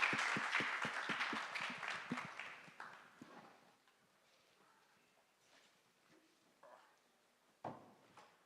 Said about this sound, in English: Let's give a round of applause for the panel.